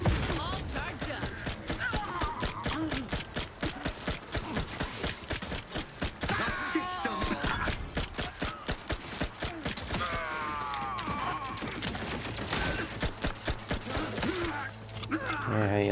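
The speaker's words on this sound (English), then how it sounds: "Yeah, how you like them turrets?" Turrets fire in The Outer Worlds 2 amid a dense, crackling barrage of rapid mechanical shots and clanks, loud and busy throughout, with voices talking over the combat.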